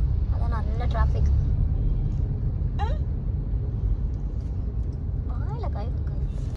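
Heavy Saturday road traffic in a jam: a steady, loud low rumble of engines fills the scene, with a few brief high chirping sounds over it.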